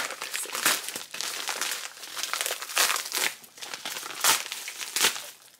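A crinkly package holding a book from a publisher is opened by hand, producing a run of loud, close crumpling and crinkling bursts in irregular clusters with short pauses, and no talking.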